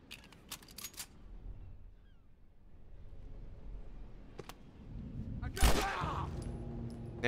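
Gunfire in the video game The Last of Us, a few sharp shots early and a louder burst near the end, heard under quiet talk from a player.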